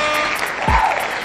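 A brief round of audience applause for a rapper announcing his final album, steady crowd clapping with a low thump partway through.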